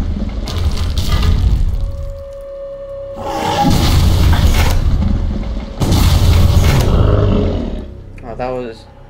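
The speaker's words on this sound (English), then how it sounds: "I'm gonna try out my bazooka" A bazooka fired in Block Craft Pixel Strike, a blocky pixel shooter game: loud booming blasts and roaring explosions in several heavy bursts, each rumbling out before the next, with a few fainter mechanical clacks in between.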